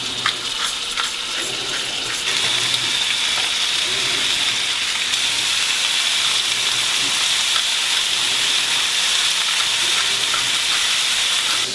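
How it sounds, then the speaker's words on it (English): Venison pieces searing in a hot pan, seasoned with salt and pepper, a loud steady sizzle and hiss with small pops, continuous and close throughout. "So while our meat is browning"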